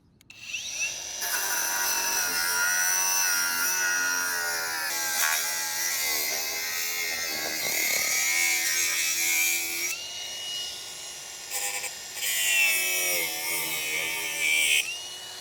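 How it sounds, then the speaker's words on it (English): A Seesii 21V brushless angle grinder with a cutting blade, set high, notches into a brick, giving a loud, continuous high-pitched whine and gritty abrasive roar that dips and surges as the blade bites, heard up close with no talking. "I am just using the cutting blade and I'm gonna just kind of notch into this brick a little bit and see how it cuts this piece down"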